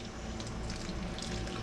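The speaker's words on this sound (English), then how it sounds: "Now all it's going to do is take a little warm water" Warm water poured from a tap into a bowl of flour for a Depression-era dough, a steady splashing stream running close and continuously for a couple of seconds, no talk over it.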